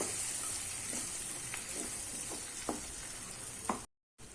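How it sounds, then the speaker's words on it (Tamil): Ground Chettinad-style kaara chutney sautés in a pan, a soft steady sizzle with occasional light stirring taps, then a brief cut to silence near the end. "இப்போ இந்த சட்னியை ஒரு நிமிஷம் வதக்கினா போதும்,"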